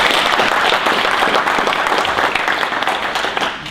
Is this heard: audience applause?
yes